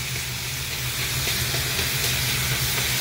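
Ground meat frying in a pan for a bolognese sauce, a loud, steady sizzle crackling close by without pause.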